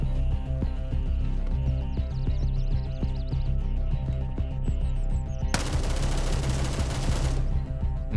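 Rapid automatic gunfire in the video game Gray Zone Warfare, a steady stream of close shots in quick rhythm, with a harsher, noisier burst of fire toward the end.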